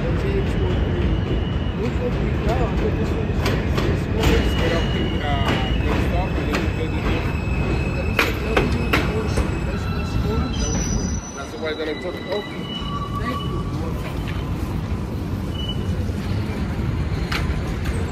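An R160A M train on the New York City subway pulls into Marcy Avenue station with a loud, steady rumble and high wheel squeal. A brief dip is followed by continued rolling noise, and voices are faintly present.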